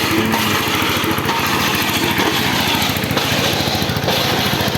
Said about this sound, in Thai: ตอกแบบนี้นะตึงตึงตึงสิบครั้ง